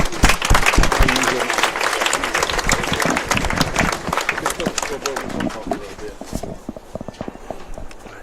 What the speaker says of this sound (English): Let's give our homecoming court one more round of applause